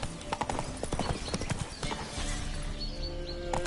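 Horse hooves clip-clopping in a video game, a brisk, fairly close rhythmic patter of hoofbeats with a horse's whinny mixed in, over a faint background.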